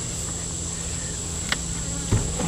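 Bees buzz around honey supers during a hive inspection outdoors, a steady droning hum with a few close, brief clicks and knocks from handling the boxes.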